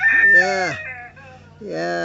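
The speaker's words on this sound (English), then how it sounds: "they're beautiful chickens. Beautiful hens, beautiful chickens." Chickens call loudly and close by, a burst of harmonic clucking and squawking, a brief pause, then another drawn-out call.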